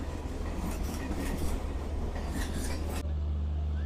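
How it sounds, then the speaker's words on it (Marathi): Passenger train standing at a station during a Mumbai to Ujjain journey, a steady low rumble and hum of rail cars filling the clip, moderately loud and continuous, with no talking. "ही बघा, ही ट्रेन आहे आपली."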